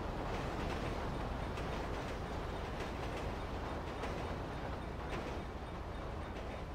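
A train rolls by in the police game GTA V with the LSPDFR mod, a steady dense rumble with faint rhythmic clatter holding at even loudness throughout, with no voices over it.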